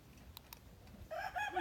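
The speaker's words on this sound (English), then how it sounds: "That's my rooster, Mr. Heckles." A rooster crows faintly in the background, its call rising near the end after a couple of soft clicks.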